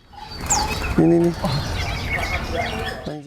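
Scaly-breasted munia finches in an aviary give thin, high chirps and short calls at close range, mixed with a person talking and other rustling aviary sounds.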